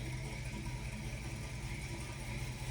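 A 1969 Ford Mustang Fastback idles with a steady, deep engine rumble, close and continuous with no revving.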